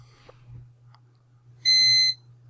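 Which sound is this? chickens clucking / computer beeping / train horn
computer beeping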